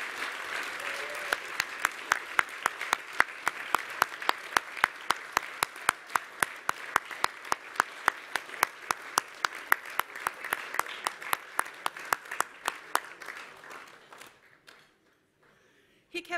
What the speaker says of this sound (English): keep the applause going as he makes his way up front